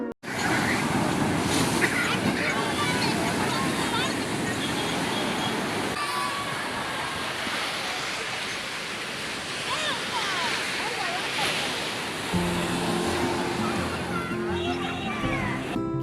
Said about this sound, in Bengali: স্বর্গদ্বারে এসে আমরা সমুদ্রের শব্দ শুনতে পেলাম